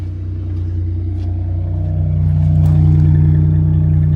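A Pontiac Bonneville SSEi idles with its mufflers cut out, a deep, loud, close exhaust rumble that swells slightly as it runs, with no talking.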